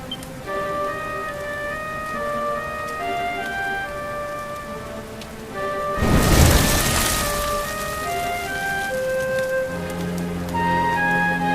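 Steady rain falls in Dragon Quest XI under soft game music, with a brief swell of heavier downpour or a rumble of thunder midway before the rain settles back.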